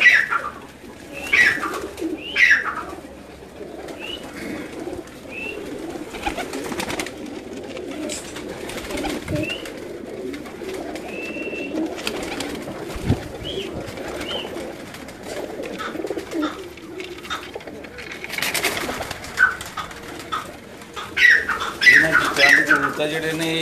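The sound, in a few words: pigeons cooing on a rooftop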